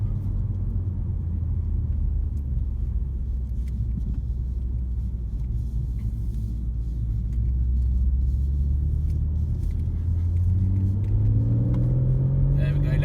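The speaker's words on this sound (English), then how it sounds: "You can hear that exhaust system." A BMW M140i Shadow Edition's exhaust rumbles with a deep, steady drone, then rises in pitch as the engine revs up toward the end.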